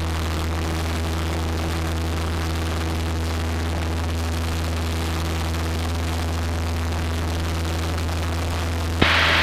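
A small aircraft on a first solo flight roars at full power for its takeoff run, a loud steady engine drone with strong low hum tones throughout and no talking.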